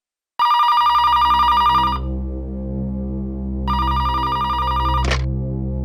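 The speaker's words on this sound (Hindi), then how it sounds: "फोन उठाना है प्लीज।" A telephone rings loudly in two bursts of electronic trilling, the first about a second and a half long and the second after a pause, over a low steady background hum in a CID bureau office.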